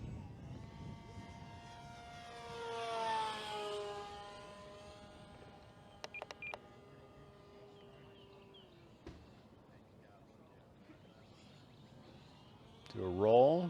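An E-flite Decathlon RC airplane makes a high-speed pass over a runway, its small electric motor whining up and sweeping past, then fading, with a brief louder surge at the end.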